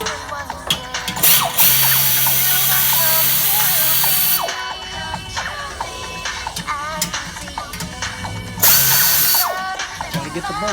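A ratchet wrench clicks in quick repeated bursts as bolts come off an Acura NSX exhaust being swapped for Manzo test pipes, with short pauses between runs, close by and clear, and a loud rushing noise swelling in at two points.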